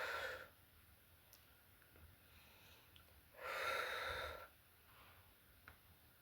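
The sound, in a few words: exhaling breath during pilates exercise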